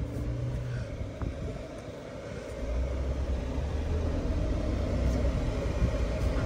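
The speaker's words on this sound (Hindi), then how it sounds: "इंजन की नॉइज हल्की हल्की आ रही, ज्यादा नहीं आ रही" A Maruti Suzuki Jimny engine drones steadily from inside the cabin, a low rumble that swells slightly partway through and holds level, with no voices.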